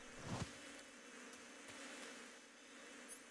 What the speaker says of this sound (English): The bees. The bees, they love me.